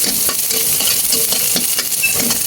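Garlic and onion sautéing in a pan make a loud, close sizzle, with repeated spatula scrapes and light clinks of stirring scattered through it, and no voices.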